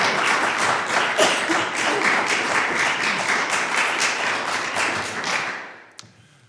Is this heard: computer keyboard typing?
no